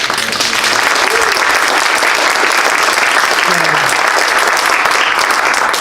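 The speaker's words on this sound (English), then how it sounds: "Please give them a round of applause." A crowd gives a round of applause at a Richmond community event, a loud, dense, continuous roar of clapping that holds steady throughout with no breaks.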